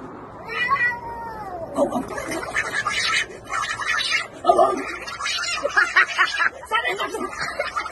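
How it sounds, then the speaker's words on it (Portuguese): A cat caterwauling and yowling loudly in a fight with a dog, drawn-out rising and falling wails up close, mixed with bursts of human chuckling and laughter. "o gato brigando com o cachorro e o dono reclamando"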